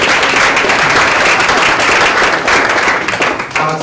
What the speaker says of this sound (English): So maybe give yourselves a clap for making it out of the house.